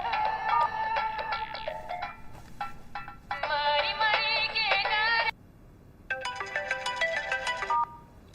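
A loud electronic phone ringtone announcing an incoming call plays in three long melodic bursts separated by brief pauses, clear and close with no voices over it.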